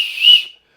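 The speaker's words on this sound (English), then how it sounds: "has a whistle" A small whistle attached to the sheath of a tactical neck knife gives one short, shrill, steady blast of under a second that swells and then fades out, heard close and alone.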